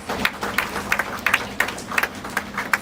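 Children at a vacation Bible school session give a short round of applause, scattered claps bunching into quick bursts at fairly close range.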